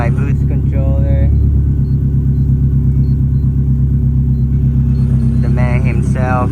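Idling tuned car engine with an aggressive camshaft, a loping, uneven rumble that stays loud and close the whole time, with brief voices talking over it at the start and end.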